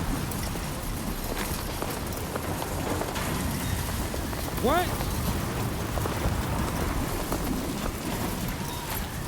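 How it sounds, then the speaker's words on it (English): Storm in the video game Death Stranding 2: steady heavy rain with low rumbling thunder throughout, with a brief rising tone midway and a short spoken word over it. "Disconnected because of the storm."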